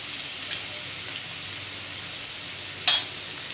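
Coriander and turmeric frying in oil for poha, a faint steady sizzle hissing throughout with two brief brighter crackles, the second more pronounced, and no talk.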